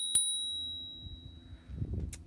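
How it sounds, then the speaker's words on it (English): A single crisp ding from the handlebar bell of a Rad Power Bikes Mini 4 e-bike, ringing out with a long fading tone, followed by faint handling noise. "The bell here."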